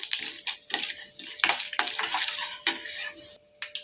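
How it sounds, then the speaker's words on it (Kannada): Mustard seeds, urad dal and chana dal frying in oil for masala avalakki, heard mostly as a spoon repeatedly clattering and scraping against the pan in irregular bursts over a soft sizzle, ending in a brief silence and one more scrape. "ಸ್ವಲ್ಪ ಸಾಸಿವೆ ಹಾಕೊಳ್ಳಿ ಸ್ವಲ್ಪ ಉದ್ದಿನಬೇಳೆ ಸ್ವಲ್ಪ ಕಡಲೆಬೇಳೆ ಎರಡನ್ನೂ ಹಾಕ್ಕೊಂಡು ಚೆನ್ನಾಗಿ ಫ್ರೈ ಮಾಡ್ಕೊಳ್ಳಿ"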